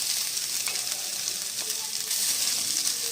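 Powdered coconut fries over low heat in a pan for chutney, giving a steady, soft, close hiss of sizzling with faint stirring.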